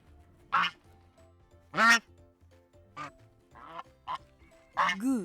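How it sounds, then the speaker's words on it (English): A goose gives a series of about six loud, nasal honking calls in short separate bursts, with brief pauses between them. "Goose."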